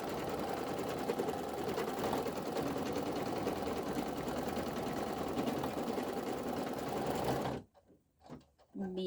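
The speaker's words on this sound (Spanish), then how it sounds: "voy a hacer el segundo corrido que habíamos dicho, que es el que nos cose la tela" Embroidery sewing machine stitching an appliqué onto fabric, a loud, steady, rapid mechanical whir running continuously nearby, then stopping abruptly near the end, leaving a few faint clicks.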